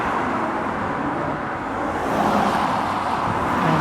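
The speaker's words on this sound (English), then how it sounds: "another MAN TGX from Brown's Distribution near Stoke-on-Trent." MAN TGX truck rolling past at a truck stop on the A5 near Cannock, a broad steady road rumble with wind that swells slightly toward the end, no voices.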